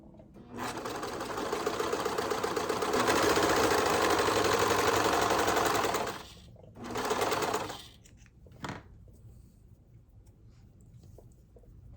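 A serger stitches and trims fabric with its knife in a loud, rapid mechanical whir for about six seconds, then a shorter burst, followed by a few soft handling sounds.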